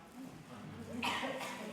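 A single throaty cough bursts out near the end, with a quieter second hack just after, over faint room murmur.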